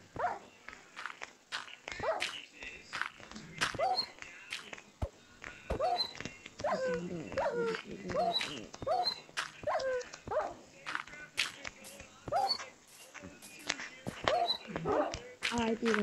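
A cartoon dog in a Minecraft map game barks and whimpers repeatedly in short sharp calls, mixed with footsteps and game effects while a person talks over it.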